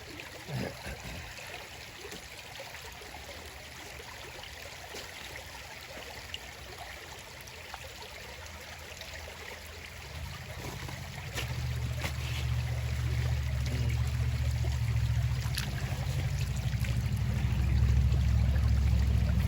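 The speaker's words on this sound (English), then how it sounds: "This is our first time at this little creek" A small Indiana creek flows steadily, a constant soft wash and trickle of water that grows louder and rumbles more toward the end, with no one talking.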